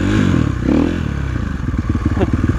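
KTM 450 SXF dirt bike engine revving up close, loud throttle swells that settle into a rapid rhythmic popping idle.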